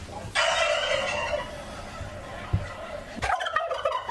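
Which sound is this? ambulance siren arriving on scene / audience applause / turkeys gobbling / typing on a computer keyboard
turkeys gobbling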